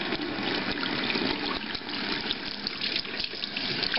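A tap running warm water to wash a beauty blender sponge, a steady close splashing stream into a sink continuing throughout without talk.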